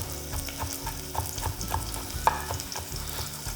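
Minced lemongrass mixture stirred in a hot pan for tofu bánh mì, with steady sizzling and repeated scraping strokes of the utensil, close and moderately loud, no talking.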